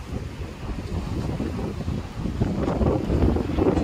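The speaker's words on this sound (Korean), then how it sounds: "바람 소리, 파도 소리" Steady gusting wind roars across the microphone with the low rush of waves breaking continuously underneath, loud and unbroken throughout, on Jeju Island's coast at night.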